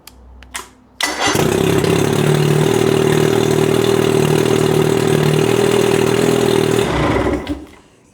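A sailboat engine primed with fuel cranks briefly, fires up and settles into a loud, steady close-up idle for several seconds before shutting down.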